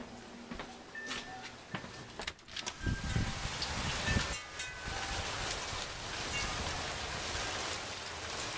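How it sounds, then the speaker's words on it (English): Hard, constant rain heard through an open back door, a dense steady hiss of falling water filling the whole stretch, with a few clatters and knocks near the start and no talk. "Just a constant, pretty hard rain."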